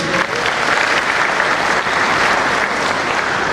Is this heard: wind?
no